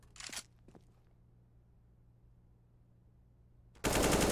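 AK rifle fire in the video game CS:GO opens with a short, sharp burst, falls to a near-silent pause, then breaks into a loud, sustained volley at the very end.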